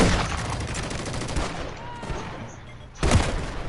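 Gunfire rattles in a Call of Duty Warzone match: a rapid string of close shots with a brief lull, then another loud volley near the end, with no talking.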